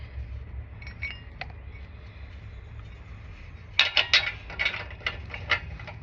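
A wrench tightens a downstream O2 sensor on a 2011 Toyota Camry 2.5, giving a cluster of sharp metallic clinks and ratchet-like clicks near the end after a quiet stretch of low rumble.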